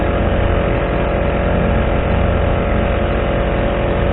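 A small Honda 35cc outboard engine runs steadily on a Nucanoe Frontier 12 canoe at cruising speed, a loud, continuous near drone without a break.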